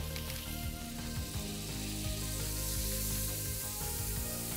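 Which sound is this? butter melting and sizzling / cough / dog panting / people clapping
butter melting and sizzling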